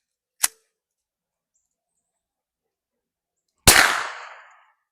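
A suppressed rifle fires during a hog-hunting trip in the Texas swamps while a new suppressor is tested. A sharp faint crack comes first, then about three seconds later a louder blast with a decaying tail, with no talk.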